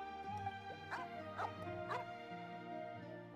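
A dog in the game Genshin Impact gives a few short, high yips and whimpering barks, about three distinct bursts over a steady tonal musical backdrop, fairly clear and close.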